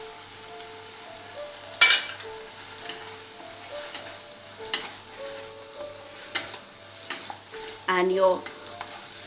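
Paneer sizzles in a pan as it is stirred, with a soft continuous frying hiss and scattered clatters and scrapes of the utensil, close up, and a voice briefly speaking over it.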